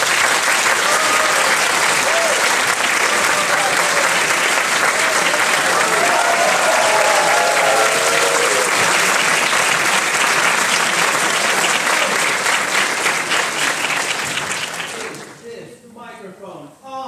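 Sustained, loud applause from a live audience welcoming a guest at an animation event, filling about fifteen seconds before dying away as a voice begins speaking.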